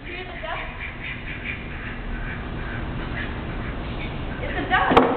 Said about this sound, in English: It's a duck. A real duck.